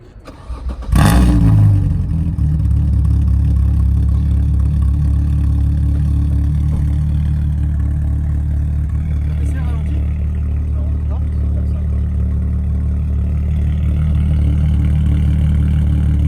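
A 3.2 litre V6 car engine cranks and catches with a loud burst, then settles into a steady, deep, throbbing idle that runs on for many seconds close by.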